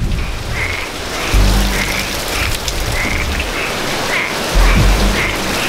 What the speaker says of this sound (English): Do you hear all those frogs?